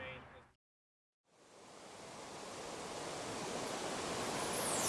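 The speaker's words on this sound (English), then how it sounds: "This is Grand Falls on Shoal Creek near Joplin." Grand Falls on Shoal Creek near Joplin, Missouri, pours in a steady, full roar of rushing water that builds slightly louder and stays constant after a brief silence near the start.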